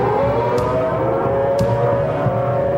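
A civil defense tornado siren wails in a sustained drone, loud over a dense background rumble, with a couple of brief sharp clicks.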